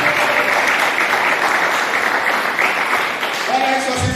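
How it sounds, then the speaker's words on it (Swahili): A church congregation claps together during a Swahili sermon on the blood of Jesus, a dense steady roar of hands throughout with voices calling out beneath it. "Chape Bwana makofi basi"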